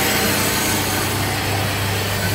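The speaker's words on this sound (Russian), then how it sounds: "Пилится газобетонный блок" An aerated concrete block is cut on a building site where a single-storey house with a flat roof is going up, giving a loud, steady, unbroken grinding saw noise with a constant hum and no talk.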